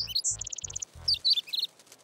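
A cartoon baby bird chirping, several bright high tweets and rapid trills in quick sequence, close and clear, alongside a few soft low thumps.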